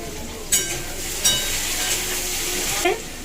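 Bitter gourd frying in a pan gives off a steady close sizzle, with a few sharp spatula scrapes of stirring standing out above it.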